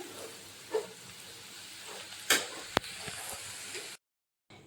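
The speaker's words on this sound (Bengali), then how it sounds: "এই যে আমার আলু ভাজাটা হয়ে গেছে লাল লাল করে আমি ভেজে নিয়েছি এবার নামিয়ে নেব আলু ভাজাটা" Potato slices fry in a pan, giving a faint, steady hiss with a few soft spoon clicks and one sharp tap near the pan, then the sound cuts to silence; nobody speaks.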